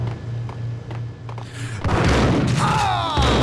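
Shotgun blasts in the video game Max Payne, a couple of sharp booming shots amid gunfight noise and in-game chatter.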